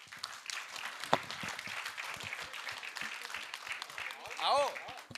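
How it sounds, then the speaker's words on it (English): A business meet audience claps for a team, moderate and somewhat distant applause mixed with voices and a loud whistle-like shout near the end. "Let's applaud for them."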